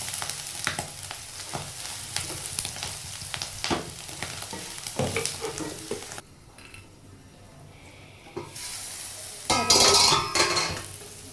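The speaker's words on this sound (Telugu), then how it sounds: "ఇదంతా కొంచెం అయిన తర్వాత కాకరకాయ యాడ్ చేసుకొని కలుపుకోవాలి ఫ్రెండ్స్" Bitter gourd fries in a pan while a spoon stirs and scrapes, producing loud crackling sizzle and metallic clinks that drop away briefly before a sharp burst of frying returns.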